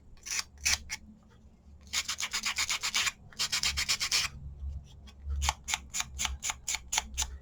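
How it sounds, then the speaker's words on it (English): A sanding disc rubbed across cardstock to expose the color beneath, heard as close, dry raspy scrubbing in quick rhythmic bursts, with short pauses between runs of strokes and no talking. "you sand down to the color that is behind it here"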